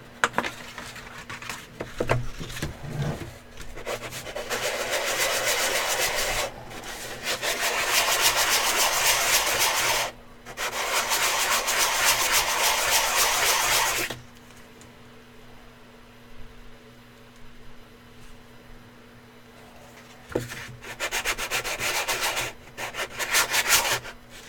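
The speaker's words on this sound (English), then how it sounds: "If it looks like I'm sanding this weird, it's because it is." Repeated bursts of abrasive rubbing as wood is sanded, long strokes separated by short pauses, with a steady machine hum underneath.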